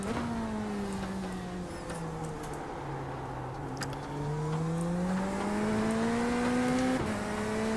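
Race car engine in a Daytona 24-hour endurance sim racing game drones steadily and loudly, its pitch sagging then climbing as it revs, with a quick gear shift near the end and no talking.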